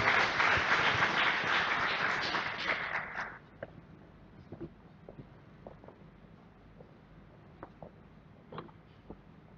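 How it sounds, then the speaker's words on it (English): A hall audience at a university campus event applauds Professor Sutarno, Rector of Universitas Sebelas Maret: dense, loud applause for about three seconds, then it quickly dies away to a few scattered claps and light taps. "Please give a big hand of applause to Professor Sutarno"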